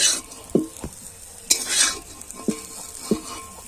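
Egg chowmein being stirred in a wok, with sharp scraping and clattering strokes every second or so over a soft sizzle, close and fairly loud, no voices.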